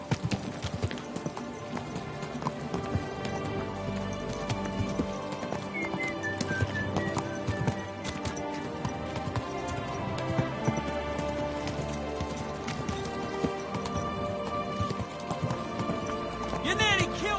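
Horse hooves clip-clop steadily in Kingdom Come Deliverance 2, a brisk rhythmic trot layered under a dense bed of game music and ambient sound, with no voices in the clip.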